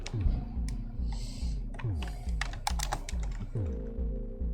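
Rapid typing on a computer keyboard during a keyboard test in a video game, with dense, steady key clacks over a low, droning music background.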